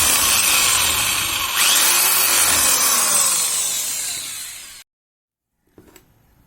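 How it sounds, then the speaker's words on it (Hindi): A power drill bores a hole in a motor mount for a homemade quadcopter, giving a loud, steady whine for about five seconds before cutting off, with a brief faint click afterward. "तो इसको हम लोग पहले ड्रिल कर लेते हैं।"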